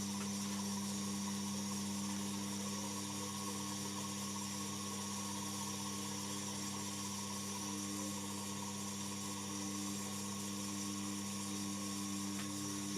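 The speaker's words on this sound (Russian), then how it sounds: "растачиваю первое отверстие" A homemade boring head bores a hole in a workpiece on a rotary table, giving a steady machine drone with a constant motor hum and a faint cutting whir throughout, without talk.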